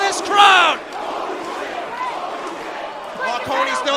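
A wrestling crowd at a House of Glory show erupts in loud cheers and yells after a huge dive, fading to a steady roar before rising again, with a commentator talking over it.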